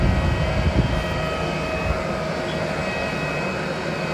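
An airplane's jet engines roar steadily at an airport near Tokyo, a loud, continuous hum with a slight whine heard from close by.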